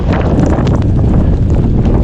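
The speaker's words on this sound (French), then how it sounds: "Il y a trop de vent." Strong gusting wind buffets the microphone at a mountain pass during a winter snowshoe trek in stormy weather in the Pays de Sault, a loud, constant roar with no break.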